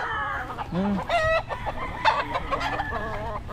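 A flock of about 120 to 130 chickens clucks close by, with short busy calls overlapping in a continuous farmyard chatter.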